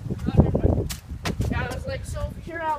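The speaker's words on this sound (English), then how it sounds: "Loud noises out there, we're not getting shot, then it's fireworks." Fireworks go off outside in a few sharp, cracking bangs, some loud and near, scattered among people talking close by.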